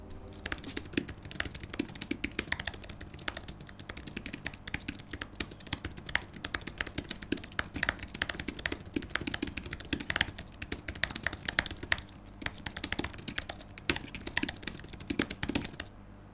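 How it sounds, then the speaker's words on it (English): Speed typing on an Apple Magic Keyboard 2 with scissor switches, a quiet, rapid, uneven stream of close-up soft key clicks and taps continuing steadily throughout, with no speech. "Here is a quick ASMR sound test of me doing a speed typing test on"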